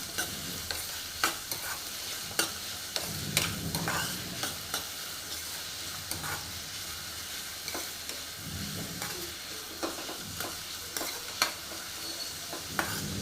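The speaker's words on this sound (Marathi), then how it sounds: "कांदा व्यवस्थित नरम होईपर्यंत ह्याला व्यवस्थित फ्राय करायचं तेलावरती" Chopped onions fry in oil with curry leaves for a dry ghevda bean bhaji, giving a steady, close sizzle broken by frequent sharp scrapes and knocks of a spoon stirring against the pan.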